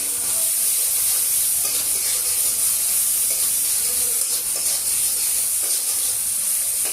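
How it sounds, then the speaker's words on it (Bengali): Green chilli and garlic paste hitting hot oil in a pan with fish, a steady loud sizzle and hiss of frying that runs unbroken throughout, with faint stirring and no talking. "এবার দিয়ে দেবো আমাদের কাঁচা লঙ্কা রসুন পেস্ট যেটা আছে দিয়ে দিলাম।"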